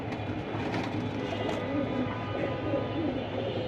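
Pigeons coo softly in a steady background din at a pigeon sale, with low repeated cooing under continuous ambient noise.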